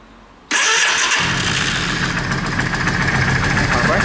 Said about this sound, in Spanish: Arrancamos la moto.